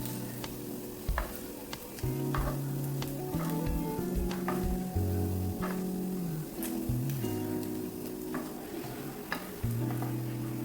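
Ginger, garlic and dried chillies fry in a little oil in a pan that just held fried paneer, giving a soft, continuous sizzle with light ticking pops and occasional utensil taps.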